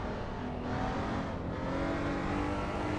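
A Honda S2000 engine revving high in the Assetto Corsa EVO racing game, a loud, dense, continuous engine roar with steady pitch lines and no pauses.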